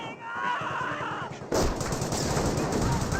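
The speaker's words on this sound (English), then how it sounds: "the Grenadier squad is receiving quite a bit of fire right there" Gunfire hits an infantry squad in the World War II strategy game Company of Heroes, with rattling bursts that grow denser and louder halfway through.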